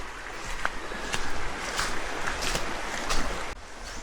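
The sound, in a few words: small sea waves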